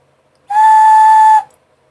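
A handmade clay ocarina sounds one clear, loud, steady whistle tone for about a second, alone and up close.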